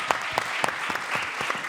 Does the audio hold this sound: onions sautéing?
no